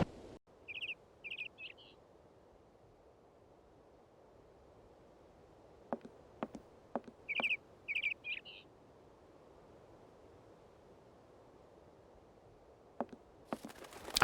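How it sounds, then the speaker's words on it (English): A bird startled into flight in the video game Syberia, heard as brief high chirps and a quick flurry of flapping and tapping that recurs a few times against an otherwise quiet background. "Oh, we scared a bird away."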